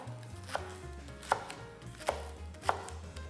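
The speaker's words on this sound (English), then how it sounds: "Real quick, I'm just gonna chop up these scallions" Scallions chopped with a knife on a cutting board, four distinct, sharp chops spaced unevenly apart, close and clear over a low hum.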